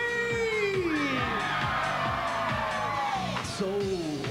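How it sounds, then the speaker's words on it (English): A concert crowd at a live outdoor morning TV show performance in New York City screams and cheers, shrill whoops and yells rising over a pulsing dance beat. "Somebody scream."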